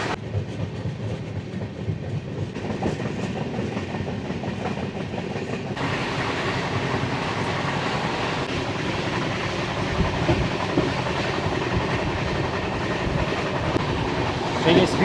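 A Paharia Express LHB passenger train runs at speed on the rails near Bandel, a steady loud rumble with rhythmic clickety-clack of wheels over joints throughout, growing brighter midway.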